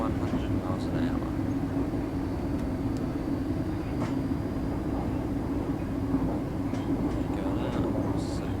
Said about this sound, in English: The acceleration's fantastic on the 385.